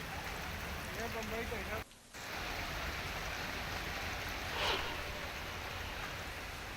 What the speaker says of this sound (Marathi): इकडे डोंबिवली सुद्धा मुसळधार पावसाने हजेरी लावलेली आहे